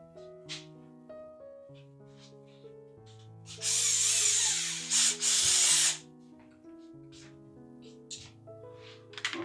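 A handheld power drill bores a hole in concrete for an irrigation ditch, whirring loudly for about two seconds, pausing briefly, then running again, with quieter tonal background sounds before and after.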